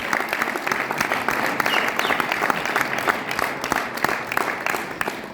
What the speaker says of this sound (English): Can we give 2 of them a big round of applause?